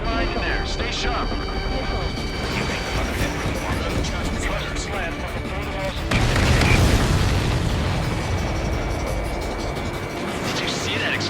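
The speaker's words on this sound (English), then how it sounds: "Did you see that explosion? Looks like that's one of them down." A supply ship explodes in the combat flight game Ace Combat 7, a deep rumbling boom swelling midway over a roaring jet engine and battle noise, with radio chatter around it.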